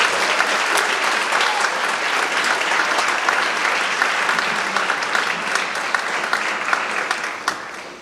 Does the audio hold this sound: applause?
yes